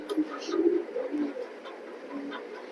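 Pigeons cooing close by in a loft of pet pigeons kept for sale, several soft throaty coos over a few seconds against quiet background.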